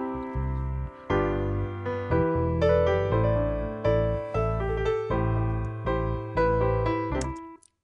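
Logic Pro session players run through a chord progression, with sustained keyboard chords and a bass line changing every second or so, alone and clear.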